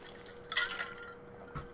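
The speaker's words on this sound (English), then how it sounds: "Let me take a drink of water here." A person sips water close by, making a short liquid gulp and a swallow, then a faint second sip, with a low steady hum in the background.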